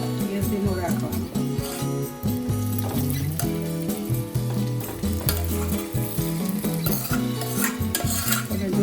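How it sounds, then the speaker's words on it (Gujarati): Cracked-wheat lapsi stirred and sautéed in ghee over a low flame, a continuous sizzle with scraping of a spoon against the pan, under a steady tonal background that sounds like music. "આવી રીતના સાતળી લેવાની ઘીમાં"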